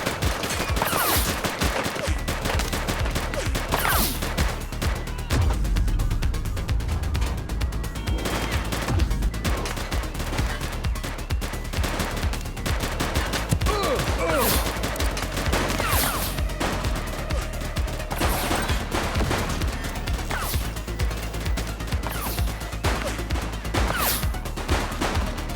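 Gunfire rattles through a police shootout in The Precinct, loud bursts of rapid shots and sharp single cracks repeating over a dense, constant din.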